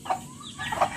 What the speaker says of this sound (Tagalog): Mana si Chik Chik nga akong giukab nga itlog